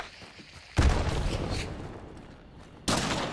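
In the video game Hunt: Showdown, a thrown grenade bursts with a sharp, booming blast, and a second explosion follows about two seconds later, both reasonably close.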